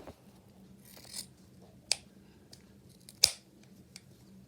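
Scissors snip through sweater fabric to shorten a bow tail on a handmade sweater pumpkin, giving a few distinct crisp cuts spaced about a second apart over quiet room tone.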